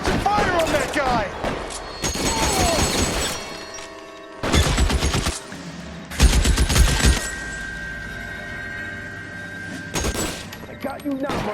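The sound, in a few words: gunfire shootout in video game L.A. Noire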